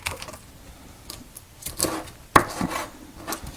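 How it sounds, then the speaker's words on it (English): A few sharp knife chops strike a chopping board while cutting cabbage at irregular intervals, one louder thump standing out, with quiet gaps between. "So let me just get these all chopped up real quick."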